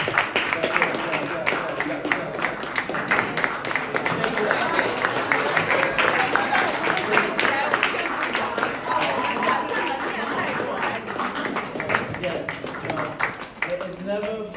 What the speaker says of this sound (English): Everybody get up and give yourself a round of applause.